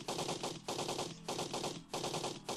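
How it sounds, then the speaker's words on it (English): Enemy automatic gunfire in the game Blood 2: The Chosen, rapid machine-gun bursts in several sustained volleys with brief gaps between them, loud and with no talking. "Just waiting for this guy to stop shooting his fucking gun to bits."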